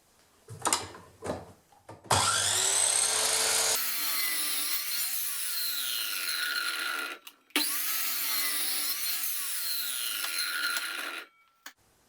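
Wood being sawn into identical pieces for making wooden hinges, a few short rough strokes followed by two long, loud, steady cuts with a brief pause between them, close by and with no talk.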